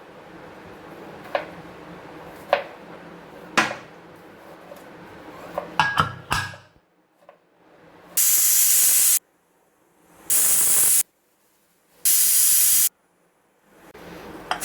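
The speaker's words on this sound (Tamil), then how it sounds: "நம்ம 3 விசில் வர வரைக்கும் வச்சிடலாம்." A pressure cooker of mushroom donne biryani clinks against metal, then three loud, sharp whistles of escaping steam sound in turn, each lasting about a second with silence between.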